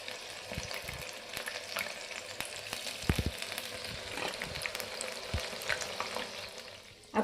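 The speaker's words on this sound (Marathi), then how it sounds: "आता आपण ब्रेडचे पकोडे या तेलात सोडले।" Bread pakoras dipped in a dahi batter sizzle and crackle steadily in hot oil, giving a close, even frying hiss with scattered pops and no voices.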